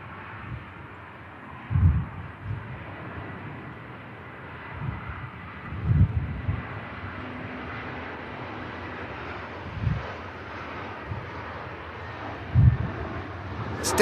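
A Vueling airliner lands at Manchester Airport, heard as a distant, muffled low roar with gusty wind buffeting the microphone in several thumps, the engine noise faint and steady beneath the wind.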